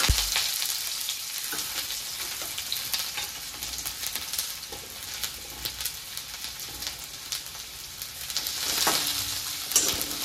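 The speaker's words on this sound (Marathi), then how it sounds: "आपण याला तेलात भाजून घेऊ।" Onion, tomato, green chillies, garlic and ginger fry in oil over medium heat, a continuous bright sizzle with scattered crackles and occasional stirring clinks, no voices.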